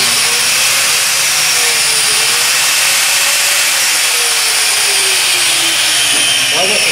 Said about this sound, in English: Well, it's a nice little grinder.